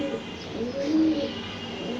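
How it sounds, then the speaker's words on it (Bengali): A racing pigeon, a young male of Bogura line, coos nearby, a soft low rolling call repeated a couple of times against a quiet background. "এই যে একটা নর কবুতর হতে পারে"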